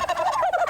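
A turkey gobbles in a rapid, warbling burst, loud and close, with no other sounds around it.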